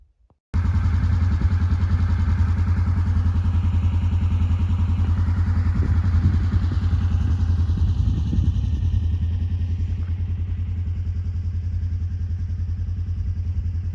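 A Polaris RZR side-by-side engine starts abruptly and settles into a loud, steady rumbling idle, close by and continuous, with faint variations as it runs; no talking.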